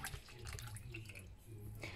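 Water from a coffee machine's tank is poured into a mug, a steady, faint trickling splash that runs continuously for a couple of seconds without talk.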